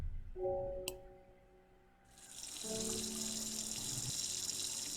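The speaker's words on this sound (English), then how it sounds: "Oh, I should probably water the plants." Water pouring as plants are watered in the video game Strange Horticulture, a steady hissing stream that starts partway through over a faint low hum and soft tonal tones, with no talking.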